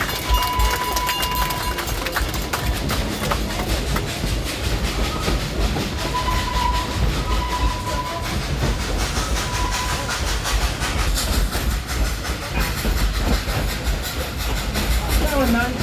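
Engine 192, a World War II veteran steam locomotive on the Dollywood theme park railroad, pulls its train. A constant loud rumble of running cars and wheel clatter carries on throughout, with brief whistle-like tones and voices mixed in.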